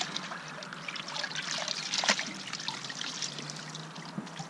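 Shower water pours and trickles over laundry being rinsed, a steady hiss of flowing water with small splashes and a slightly louder gush in the middle, close and continuous.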